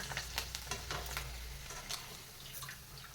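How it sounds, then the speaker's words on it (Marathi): Sabudana potato papads deep-frying in hot oil, a close bubbling sizzle with a cluster of crackling bursts and stirring scrapes, fading slightly toward the end. "मी तुम्हाला अजून दोन पापड्या तळून दाखवते"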